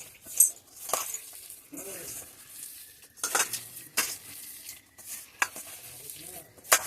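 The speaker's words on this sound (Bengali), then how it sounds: "এবার একবার ভালো করে মেখে নেই" Curry leaf pakora batter with egg kneaded by hand in a bowl, producing close, wet squelches and slaps in irregular bursts with quiet gaps between them, and no speech.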